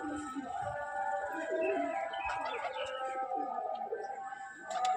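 Pigeons coo in soft, repeated throaty bursts close by, layered over one another for several seconds, with a few brief sharper clicks and flutters near the end.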